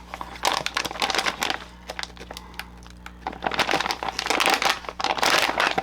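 Rocketbook planner package being opened, with close crinkling and crushing of plastic packaging in bursts, louder toward the end.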